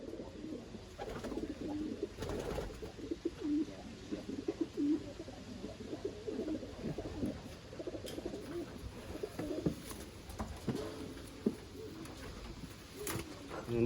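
Racing pigeons, Hubin and Jensen-Hopkins crosses, cooing inside a loft: soft, low, repeated throaty coos from several birds overlapping against a steady background hum, with occasional rustles and flutters, no talk.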